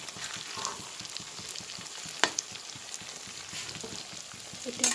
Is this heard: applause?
no